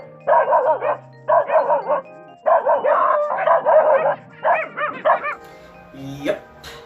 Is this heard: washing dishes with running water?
no